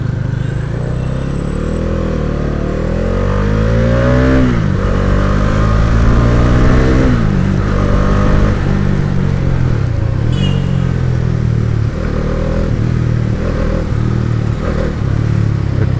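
A motorcycle engine, freshly serviced, revs up and down in several rising and falling sweeps, loud and close, with a steady idle rumble between the surges and no talk.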